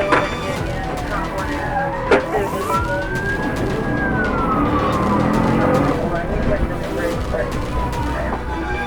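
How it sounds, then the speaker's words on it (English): Police car sirens wail in a swooping rising-and-falling pattern during a highway chase, loud and continuous over road and engine noise, with voices faintly mixed in beneath. "Behind him, a convoy of police cars closed in, sirens wailing through the chaos."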